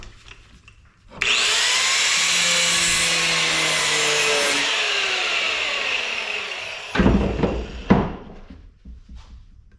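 Cutting tool slicing through plastic attached to a brass scrap part, a steady loud grinding-whine running for several seconds, then a few rough clunks and scrapes near the end.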